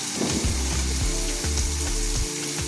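Beans and carrots sizzling in a hot pan as they stir-fry for veg noodles, a loud continuous hiss with rhythmic tossing scrapes and clanks repeating every half second or so.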